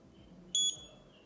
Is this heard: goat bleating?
no